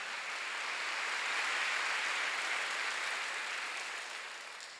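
Church congregation at a Wednesday worship service applauding, a dense steady patter of many hands clapping together for several seconds, tapering slightly at the end.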